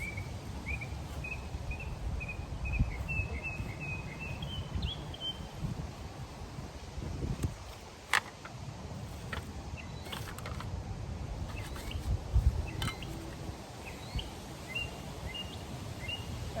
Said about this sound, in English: Birds are always chirping so loud out here.